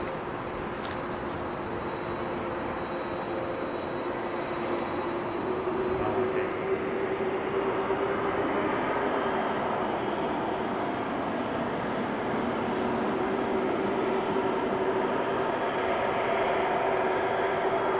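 An ATR turboprop airliner at London Heathrow Airport gives a steady, unbroken engine drone with a faint tonal whine running through it, holding level for the whole stretch.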